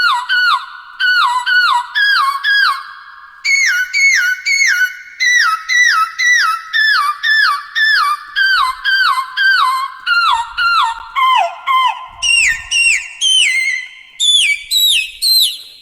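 A vocal preset from the Vox Engine 2 Kontakt library plays a rapid, repeating pattern of short, bright whistle-like vocal notes in a steady rhythm that steps down in pitch, loud and clean with no talking.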